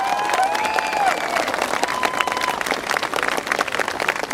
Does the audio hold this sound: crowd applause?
yes